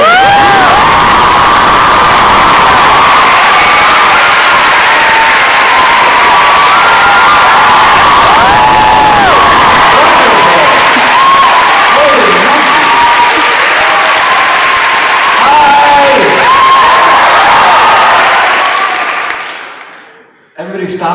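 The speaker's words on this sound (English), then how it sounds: "Everybody stopped clapping at the same time." A large live audience at a London tour event claps and cheers loudly and continuously, with whoops and shouts rising over dense applause that suddenly cuts off near the end.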